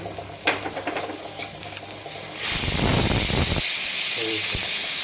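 Mustard and cumin seeds hit hot oil for tempering and burst into a loud, sudden hiss that covers the earlier kitchen clinks and keeps going with sharp crackles and pops, heard up close.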